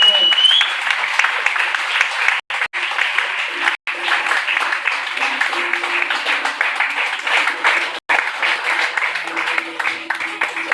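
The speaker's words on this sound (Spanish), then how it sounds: "Dele un aplauso con fuerza, Señor." A church congregation claps loudly and steadily for about eleven seconds, with a few brief breaks, while voices carry on over the clapping.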